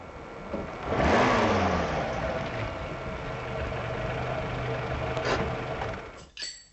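A car pulls up with its engine running, rising to a revving approach and then settling into a steady idle, loud and close, before cutting off near the end.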